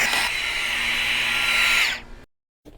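A power drill bores through a van floor while a heater, a Webasto Evo 40, is being fitted. A loud, steady, high whine runs for about two seconds, then cuts off into near silence.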